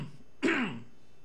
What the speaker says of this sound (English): Coughs.